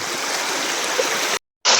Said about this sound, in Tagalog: Okay, ang lakas na ng tubig.